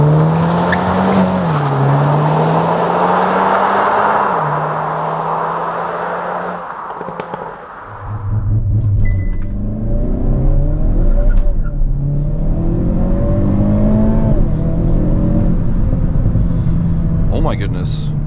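Hyundai Kona N Performance, 280 hp, launching hard on the Autobahn: loud engine revs climbing through several gear changes with brief tire noise, a short dip in sound at a shift, close and dominant throughout.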